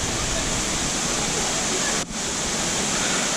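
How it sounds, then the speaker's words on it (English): Amboli Ghat waterfall roars loudly and continuously, a dense, steady rush of crashing water filling the scene up close. "this is Amboli Ghat waterfall"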